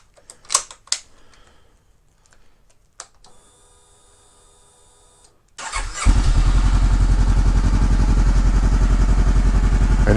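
A Honda CBR500R motorcycle with an aftermarket exhaust cranks and fires up after a few quieter clicks and handling noises, then settles into a loud, steady, throbbing idle close by.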